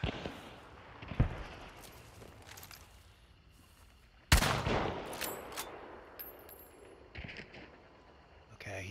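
Gunfire in Hunt: Showdown 1896: a few sharp, loud shots with ringing echoes, one especially strong crack midway, scattered among quieter distant pops and game ambience.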